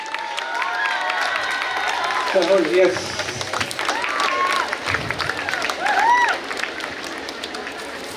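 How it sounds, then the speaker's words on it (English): An audience at a silver jubilee celebration claps and cheers in a large room, sustained applause with whoops and a host's voice calling out over it. "put your hands together for a thunderous round of applause"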